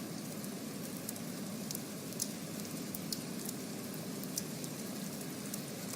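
Steady hiss of video game rain with scattered sharper drops tapping and crackling, fairly faint and even throughout.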